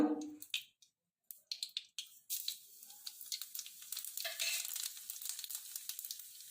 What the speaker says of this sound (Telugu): ఎండుమిర్చి తీసిన తర్వాత జీలకర్ర వేసి వేపుకోవాలండి బాగా